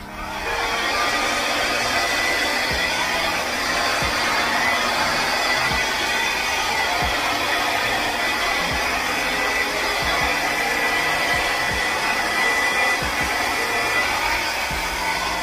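Hair dryer blowing steadily on acrylic paint during fluid art pouring, a continuous close whooshing hum with faint intermittent low knocks and no talk.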